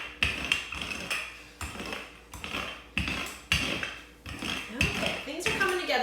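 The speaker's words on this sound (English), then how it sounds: "I got kind of a noisy rolling pin." Noisy rolling pin working lard pie pastry on a counter, producing repeated rhythmic knocks and clattering rolls about every half second, close and fairly loud, with a hint of voice at times.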